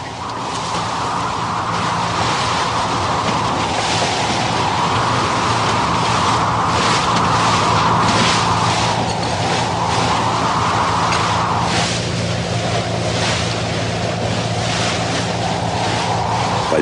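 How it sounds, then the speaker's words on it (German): Stormy wind buffets the microphone continuously on a rough sea, with waves surging and washing around a fishing boat in a loud, unbroken roar. "Es ist zu stürmisch. Die See ist zu rau."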